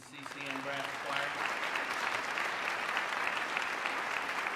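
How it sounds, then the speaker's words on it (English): Sustained audience applause fills a hall at a university investiture ceremony, swelling quickly from the start into a dense, continuous roar of many hands that carries on evenly throughout. "Can we have another round of applause"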